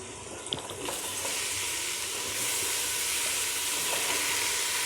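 Chopped tomatoes tipped into a pan of browned onions frying for biryani set off a loud, steady sizzle that swells after the first second and keeps hissing close by.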